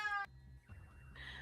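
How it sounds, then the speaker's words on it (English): A single cat meows loudly and up close, a brief harmonic cry that cuts off into quiet room tone with faint background noises. "I think the cat might be behind you."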